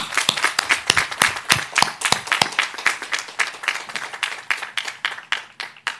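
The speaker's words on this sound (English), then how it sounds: "Please give them a round of applause." Applause for faculty at a graduate commencement ceremony, rendered as distinct, closely spaced claps from a small nearby group that continue in a steady rhythm for several seconds.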